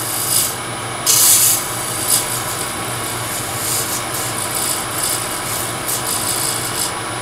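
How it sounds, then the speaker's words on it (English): A skew chisel takes light flattening cuts on a spinning wooden piece on a lathe, a steady scraping rasp over the motor's low drone, with a brief louder hiss near the start and no talking. "So a skew chisel is probably the best tool for this, because all I want to do is flatten this edge"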